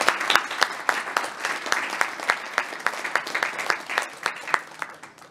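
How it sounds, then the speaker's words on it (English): An audience at a health service digital forum gives a round of applause, a brisk spread of many hands clapping with sharp individual claps standing out, sustained evenly for several seconds with no talk. "Please give them actually a round of applause."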